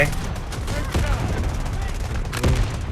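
Rapid bursts of gunfire from the mobile shooter Delta Force Mobile fill the scene continuously, with a couple of louder, heavier shots standing out near the start and again toward the end.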